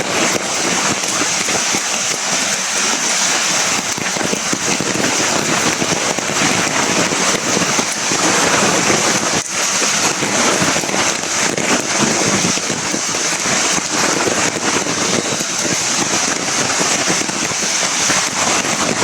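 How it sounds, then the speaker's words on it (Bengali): Heavy rain pours onto a flooded village road, a loud, steady hissing roar of drops that continues without a break from start to finish. "বৃষ্টি হইতেছেন"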